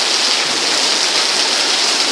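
Heavy rain pours down outdoors in a dense, steady roar of water, loud and continuous with no letup and no voices.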